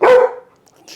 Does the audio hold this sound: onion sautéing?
no